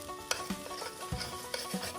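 Potatoes sizzle in bacon grease in a camp pan, a soft continuous frying hiss broken by a few quiet scrapes and taps of stirring, fairly faint and without voices.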